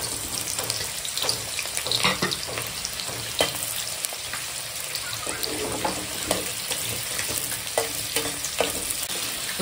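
Onions fry in hot oil, giving a close, steady crackling sizzle broken by scattered pops and utensil knocks against the pan.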